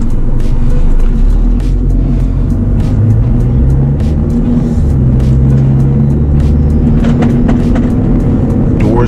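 An older car's engine idling at a standstill while waiting to merge into traffic, a loud continuous low rumble with a slightly uneven, stumbling rhythm and no talk.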